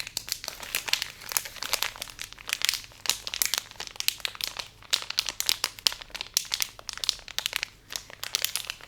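Small plastic packs of Minions-themed wet wipes being squeezed and handled up close, giving a steady run of bright, papery crinkles in quick irregular bursts with no talking.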